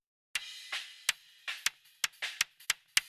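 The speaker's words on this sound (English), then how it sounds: "And this mic is inside the kick, and sounds like this" A kick drum recorded by a microphone inside the drum thumps about ten times in an uneven pattern, each hit clicky and bright with a short decay, close and isolated.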